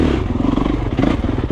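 Motorcycle ridden slowly on a road from Flagstaff to the Grand Canyon, a close, loud low engine chug with rapid regular pulses and light clatter.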